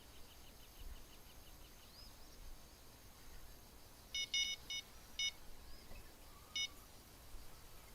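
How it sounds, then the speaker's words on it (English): Electronic bite alarm on a fishing rod in the video game Fishing Planet at Maku Maku Lake, a few short high beeps in quick bursts, then a lone beep, over a faint ambient bed of insects and nature. "I don't know which one is beeping."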